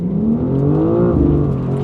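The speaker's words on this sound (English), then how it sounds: "Foot is on the brake, pin the throttle, build up the revs" A 2026 BMW M2 CS holds high revs on launch control, a loud, steady, strained engine tone that swells slightly as the car sits ready to launch.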